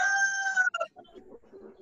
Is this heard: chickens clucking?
yes